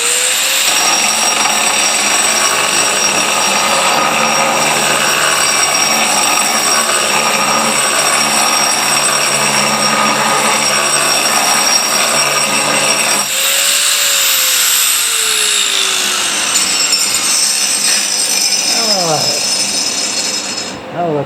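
A power grinder works a slab for a fish carving on backer board, a loud continuous whining, gritty buzz held steady for about twenty seconds with a brief pitch shift midway and a short taper at the end.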